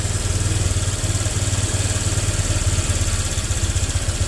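A Honda Vario scooter with sluggish, delayed throttle response idles steadily and loudly up close, its low engine drone holding an even, pulsing rhythm with no clear rise in revs.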